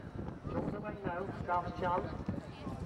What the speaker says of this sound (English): As they race up to the judge, Shaft's Chance.